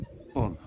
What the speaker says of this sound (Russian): По-моему, уже начал ворковать.